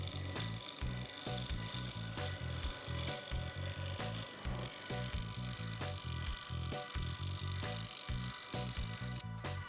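Wood spinning on a lathe against a roughing gouge while an omelette flipper is turned: a steady, close, loud grinding rumble with rapid pulsing chatter throughout and no talking.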